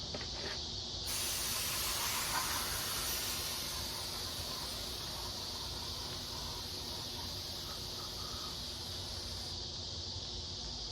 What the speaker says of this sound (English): So let's get some brake cleaner and see if we can kind of clean this mess up here.